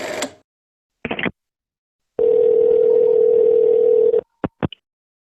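An old telephone handset gives a steady, loud dial tone for about two seconds, bracketed by short clicks and brief bursts of line noise before the call to the police.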